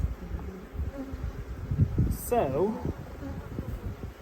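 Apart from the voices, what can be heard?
honeybees buzzing at the hive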